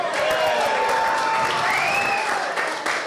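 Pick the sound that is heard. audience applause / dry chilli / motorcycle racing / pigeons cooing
audience applause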